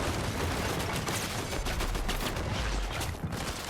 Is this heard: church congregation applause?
no